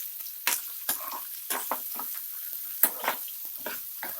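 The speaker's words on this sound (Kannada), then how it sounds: "ಈಗ ಗುಂಟೂರು ಮೆಣಸಿನ್ಕಾಯಿ ಹಾಕ್ಕೊಂಡು ಫ್ರೈ ಮಾಡ್ಕೊಳ್ಳಿ." Guntur chillies fry in hot oil with sparse, fairly quiet crackles and pops that come in short bursts over a low background; no voices.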